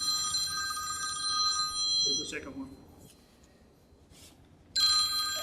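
A mobile phone keeps ringing with a bright electronic ringtone during a shire council meeting in a hall. It cuts off briefly while someone speaks, then starts again loudly.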